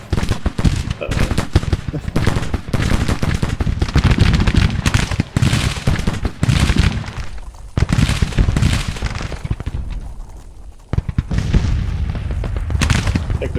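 Grand Tactician: Civil War battle: dense, rapid musket fire crackles alongside deep artillery booms, loud and continuous with brief lulls, and someone talks faintly underneath.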